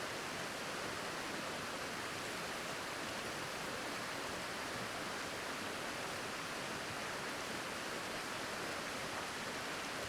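Continuous flowing river in the video game The Long Dark, a uniform broad rushing wash of water holding at a low, unchanging level for the whole stretch, no voices.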